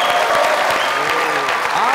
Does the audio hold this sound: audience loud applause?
yes